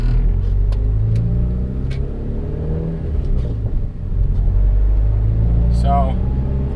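A turbocharged Honda Accord engine running from inside the car, a loud steady low drone with harmonic rumble that dips briefly and rises again, with a voice speaking over it.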